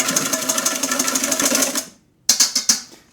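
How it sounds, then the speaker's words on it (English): Egg white whisked briskly in a bowl for gluten-free cookies: a fast, steady run of rhythmic clicking strokes that stops briefly, then resumes with a few sharper strokes. "I'm going to take my egg white, that's from the other part of the egg that we used, and I'm going to whisk this up a little bit"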